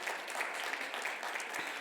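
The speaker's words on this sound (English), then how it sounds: "that deserves applause" Audience applause, steady clapping from a crowd that stays even and fairly loud throughout a short moment with no talk.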